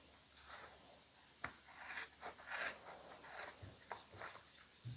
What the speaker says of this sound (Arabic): قصيت حبه من الناحيه اللي هناك وهقص حته من الناحيه دي